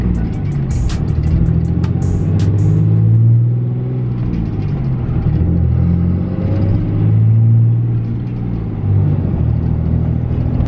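A truck's Cummins engine with a 6-speed manual gearbox rumbles and revs close by, its low drone rising and falling in a couple of swells, with no voices.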